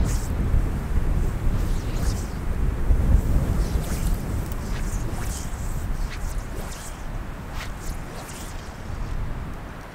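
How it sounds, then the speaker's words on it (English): Wind gusts across the microphone on a fall trout fishing outing by the water. Heavy low rumbling buffets continuously for ten seconds, with faint splashy and rustling sounds mixed in. "it's windy."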